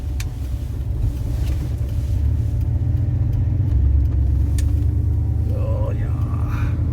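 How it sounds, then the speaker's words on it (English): Vehicle running errands at full speed, a continuous low engine rumble and road drone throughout with a couple of faint thumps, while a person talks over it. "They got these speed bumps here. Everybody, these smaller cars have to slow way down. I just go right over them."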